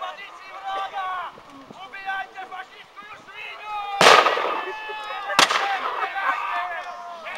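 Two loud cannon blasts boom about a second and a half apart at a battle reenactment in Modřice, over a background of music and a voice.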